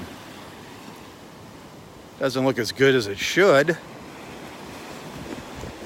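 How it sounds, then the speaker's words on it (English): Ocean surf rolls onto a beach in North Naples, Florida, as a steady broadband wash mixed with wind noise, with someone talking briefly over it midway. "But considering all these waves"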